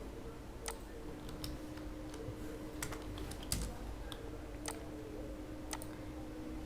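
Computer mouse clicks and keyboard typing while drawing a 30 x 50 house plan in drafting software, sparse, irregular sharp clicks and taps over a quiet background hum, close and fairly faint.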